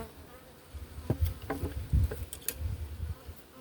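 Honey bees buzz around an opened beehive in a soft, continuous hum, with a few individual bees passing closer and louder over low background noise.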